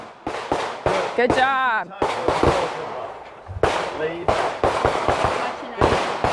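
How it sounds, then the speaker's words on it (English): Handgun shots ring out at an outdoor shooting range during a training drill, sharp cracks arriving in an irregular series of about a dozen, loud and close, with an instructor's voice speaking between the shots. "If you need to reload and get those other 6 rounds in, go ahead and do so."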